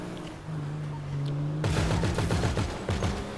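Minigun fire in Grand Theft Auto V breaks out after a low idling drone, turning into a fast, loud stream of rapid shots that continues to the end.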